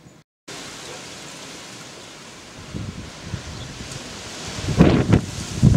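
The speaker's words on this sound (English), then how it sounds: "it's raining" Steady hiss of rain falls on a garden plot during gales, growing louder over time, with a few gusty rumbles and bursts of wind noise near the end.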